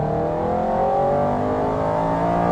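Aston Martin Vantage GT8 engine pulling hard under acceleration, a steady loud rising drone heard from inside the car, with no talking.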